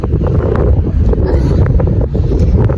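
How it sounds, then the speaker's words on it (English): Strong wind roars and buffets against the microphone, a constant heavy rumble with gusty surges throughout. "It is windy. I don't know if you can hear me, but it is so windy today."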